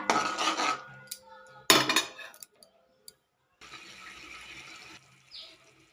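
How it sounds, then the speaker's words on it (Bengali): A pan of potato curry masala with whisked curd for a vegetarian aloo dum, stirred in bursts with metallic clinks and scrapes of a spoon against the pan, separated by short quiet gaps, close up. "দিয়ে বেশ কিছুক্ষণ আমি কষিয়ে নেবো মশলাটা"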